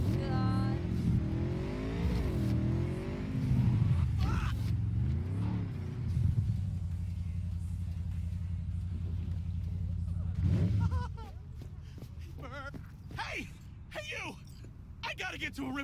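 Motorcycle engine in Cyberpunk 2077, a steady droning rev that rises and falls in pitch and then holds a sustained hum before fading under clattering game effects, with talking over it.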